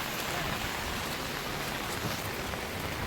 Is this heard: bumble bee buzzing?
no